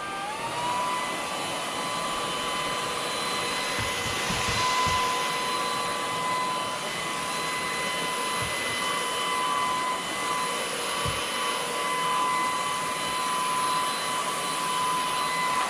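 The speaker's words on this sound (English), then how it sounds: "Moosoo multi-use vacuum" A Moosoo cordless brushless handheld cyclone vacuum running steadily on a dirty garage floor covered in grass and dirt, a continuous close whine with a few faint bumps and knocks, no talking.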